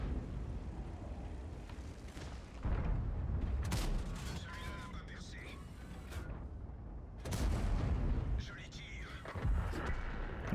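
Tank cannon fire in a video game booms out in heavy blasts, several loud shots with rumbling tails over continuous battle noise, while a voice talks over part of it.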